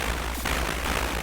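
Synthesized helicopter noise from the 1983 Stern Minefield arcade game plays as a loud, steady, rough engine drone with a low throbbing pulse.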